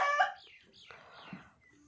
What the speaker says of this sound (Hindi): मुर्गियां अज तुहानू वहाने रौला पांदियां